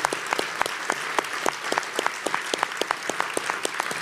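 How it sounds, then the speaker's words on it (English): Audience applause at a Big Brothers Big Sisters national conference awards gala, a dense, steady patter of many hands clapping with sharp individual claps standing out, sustained evenly throughout. "would you please stand for a round of applause?"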